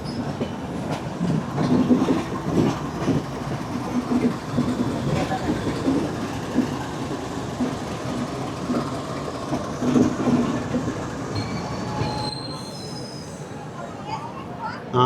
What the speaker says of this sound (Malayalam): നമ്മളങ്ങനെ മന്ത്രാലയം റോഡ് സ്റ്റേഷനിലേക്ക് പ്രവേശിക്കുന്നു